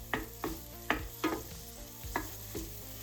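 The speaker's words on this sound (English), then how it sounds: "now we're just going to lay our onions right in there. And we're going to cook these for about 4 minutes." Thinly sliced medium onion sautéing in butter in a pan, with a soft steady sizzle broken by about six sharp utensil scrapes and clinks spaced roughly half a second apart over a faint tonal background.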